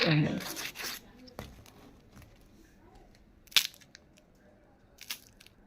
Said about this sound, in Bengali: এখন আমি একটা ভেঙে দেখাবো আপনাদেরকে কতটা ক্রিপসি